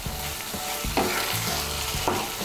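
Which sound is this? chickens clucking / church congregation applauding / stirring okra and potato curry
stirring okra and potato curry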